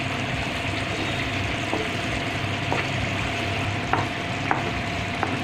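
An almond barfi mixture cooking in ghee in a pan is stirred continuously, a close steady sizzle and bubbling with occasional scraping clicks of the spoon.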